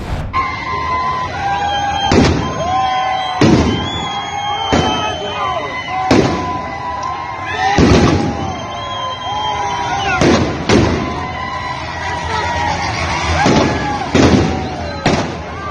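Firecrackers thrown at police during a street protest in Iran burst one after another at irregular intervals, sharp loud bangs over a constant crowd din and shouting.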